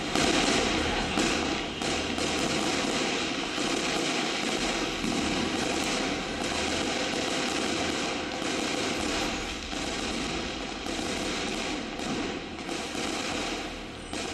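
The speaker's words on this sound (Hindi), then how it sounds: "जमकर हुई आतिशबाजी, फिर लगी सांसों की बाजी।" Fireworks and firecrackers burst on Diwali night in Delhi, dense overlapping pops, thuds and crackles at middle distance, filling the whole stretch with almost unbroken noise.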